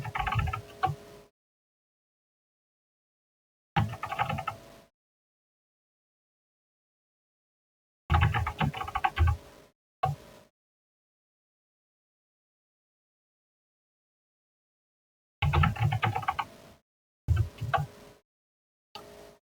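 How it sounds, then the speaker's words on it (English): Computer mouse clicks come in short isolated bursts separated by silence, several single and double clicks spread across the stretch, close and fairly quiet. "I'm going to click once, click twice, click once, click twice,"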